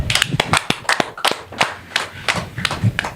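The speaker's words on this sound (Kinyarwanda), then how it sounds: "mukoma amashyi" Hands clap in sharp, uneven bursts, close and crisp, several people striking at slightly different moments with brief gaps between the claps.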